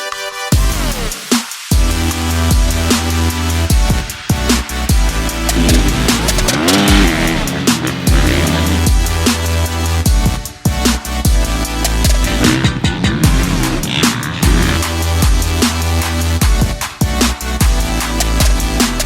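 Antonio Cairoli's factory KTM 450SXF motocross bike with an Akrapovic exhaust ridden at Fox Raceway, engine revving hard and dropping through gears with constant throttle swells, loud and close throughout.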